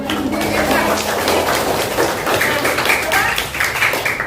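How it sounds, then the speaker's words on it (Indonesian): Children in a classroom clap their hands together in a dense, continuous patter that fills the room, with young voices chattering and calling out over and around the clapping. "Tepuk tangan semuanya."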